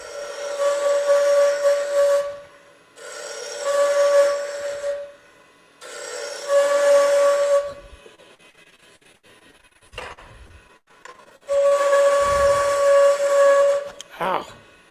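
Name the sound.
spindle roughing gouge cutting wood on a lathe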